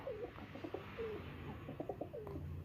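A male white-eyed Teddy pigeon gives a series of soft, low, rolling coos close by, repeated in short phrases over steady background hum.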